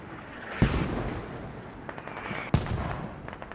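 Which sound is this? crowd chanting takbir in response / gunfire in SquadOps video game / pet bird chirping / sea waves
gunfire in SquadOps video game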